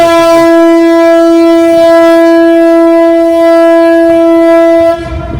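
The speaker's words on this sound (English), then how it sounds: "Hopefully Shelby doesn't freak out with that foghorn." A ship's foghorn in thick fog gives a loud, steady, deep blast with rich harmonics for about five seconds, then cuts off abruptly.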